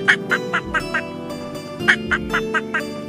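Duck quacks in a steady run of about ten short, nasal calls in two bursts, fairly close and loud, with no talking over them.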